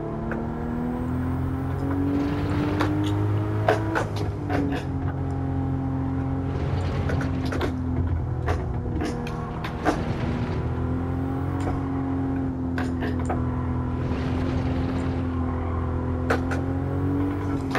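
A Toyota GT86/Subaru BRZ, modified and stock versions compared, races in Gran Turismo 7, its engine a loud, steady drone that rises and dips in pitch with brief shift breaks, with no talk over it.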